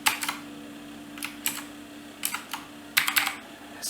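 Fingers type on a Leopard mechanical keyboard fitted with blue Gateron switches, making sharp clicky keystrokes in short clusters separated by pauses, close and fairly quiet over a faint steady hum.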